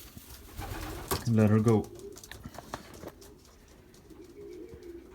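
A female racing pigeon coos in a short, throaty burst while held in hand, with someone talking close by before and after the call.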